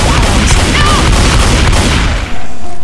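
Dense, loud gunfire and explosions from Left 4 Dead 2 roar continuously before cutting out abruptly near the end.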